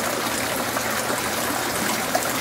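Water drains from an aquaponics grow bed back into a fish pond. It makes a close, steady rushing trickle that holds evenly throughout, with no speech.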